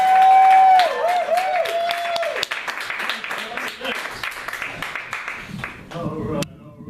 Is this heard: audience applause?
yes